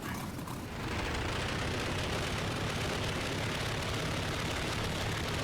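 Engine of a SAAB B17 warbird in Microsoft Flight Simulator throttling up, surging within the first second into a loud, dense, steady roar heard from the cockpit that holds to the end.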